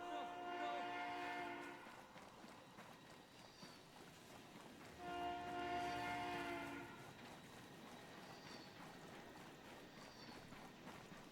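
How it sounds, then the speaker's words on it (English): Train in the video game Ghost Recon Breakpoint, two long faint horn blasts sounding in the distance over a low rumble, quiet under the game's ambience. "I think there's a train coming."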